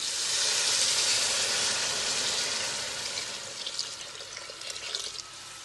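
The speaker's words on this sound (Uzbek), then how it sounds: "endi suvimizni quyib olamiz" Water pours into a pot of fried meat and potatoes for meatball soup, a loud steady rushing splash that eases off and turns to bubbly trickling and hissing toward the end.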